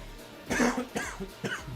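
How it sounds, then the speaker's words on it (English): A man clears his throat close to the microphone during a World of Warcraft stream, three short rough coughing bursts spaced about half a second apart, fairly quiet overall. "I had to clear my throat"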